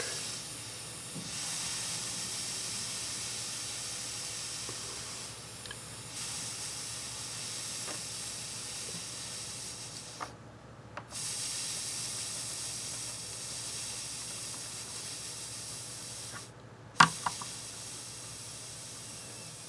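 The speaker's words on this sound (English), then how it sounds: "steam it out kind of thing" A soldering iron pressed to a wet paper towel on a dented Yamaha part makes a long, steady steam hiss, fairly close and continuous, broken by a few short pauses and a sharp click near the end.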